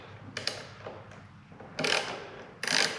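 A hand tool works the screws on a Honda wind deflector of a 2018 Goldwing, giving a few short, close ratcheting clicks that come in three bursts, the last two louder, with no talking.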